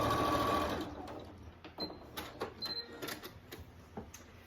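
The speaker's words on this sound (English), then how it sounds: "And then I'll line up the line again over an inch and sew down." A sewing machine stitches down a fabric photo ID pouch, starting with a steady run and then breaking into short, clattering bursts of stitching separated by brief pauses, heard close and fairly quiet.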